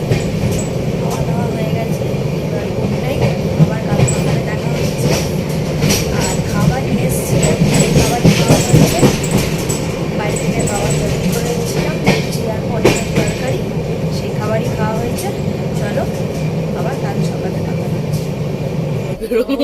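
A Darjeeling Mail train runs steadily through the whole stretch, its rumble and rattle continuous and close inside a compartment full of children, with their chatter and voices mixed over the noise.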